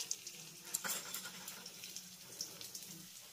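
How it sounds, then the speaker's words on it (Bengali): Garlic and green chili fry in hot oil for a vegetable thukpa soup, making a faint, soft crackling sizzle with a few small pops and a light stirring scrape. "এবার আমি এই সমস্ত উপকরণগুলো গরম তেলের ভিতরে দিয়ে দেবো।"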